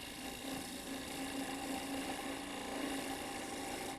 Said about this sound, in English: I'll first go down with my bow gouge and just do some steps down like this.